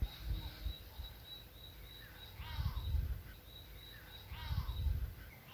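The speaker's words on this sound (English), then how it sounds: "a go-away bird seemed to protest against the presence of our 4 bush campers" Go-away bird calling at a bush campsite in the Kalahari, two harsh, drawn-out nasal calls at moderate distance over a faint steady insect whine.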